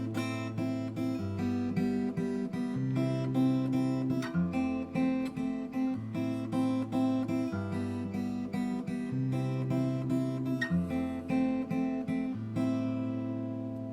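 An acoustic guitar plays a song's riff, a clean, steady picked pattern of repeating bass notes and chord tones, played solo at a moderate tempo for about fourteen seconds.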